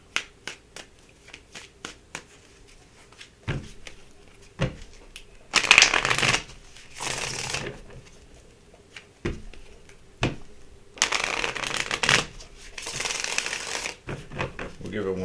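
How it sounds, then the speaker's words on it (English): Tarot cards are shuffled up close in several bursts of riffling and flicking, with sharp taps and snaps between them and quiet pauses. "We'll give it one more shuffle here."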